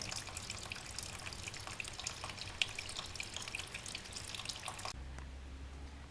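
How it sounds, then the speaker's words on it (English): Coolant drains from a 1995 Honda Shadow 1100 ACE motorcycle radiator in a quiet, steady trickle with scattered drips. The flow stops abruptly near the end, leaving a faint low hum. "So you just want to let all that coolant drain."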